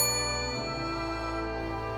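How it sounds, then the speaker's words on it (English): A service bell on a shop counter gives a single bright ding with a clear ringing tone that decays slowly over a couple of seconds, close and alone. "The service bell on the counter suddenly rang"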